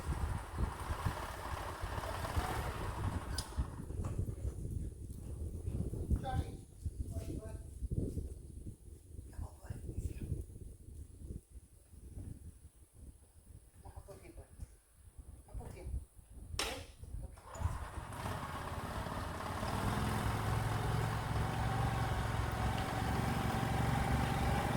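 An E-Z-GO golf cart with newly replaced front shocks drives off, its motor and rolling noise fluctuating over about twenty-five seconds, fading quieter midway before a steadier loud drone returns near the end.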